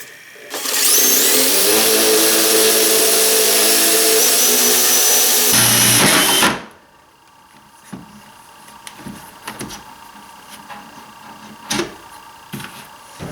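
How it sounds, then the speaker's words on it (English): A drill bores up into the underside of a cabinet board with a loud, steady whirring grind for about six seconds. It then cuts off abruptly, leaving faint knocks and handling sounds. "that kind of drill really took a lot of upward pressure to do it"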